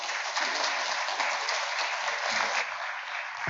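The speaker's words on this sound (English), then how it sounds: "Let's please give Ed a round of applause as he comes up." A church congregation claps steadily for an arriving guest speaker, a dense, even wash of many hands that holds for several seconds without a break.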